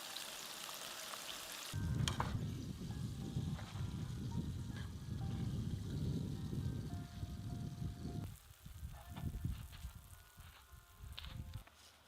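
Food sizzles steadily in hot oil, a continuous crackling hiss that stays fairly even for several seconds, with no voices.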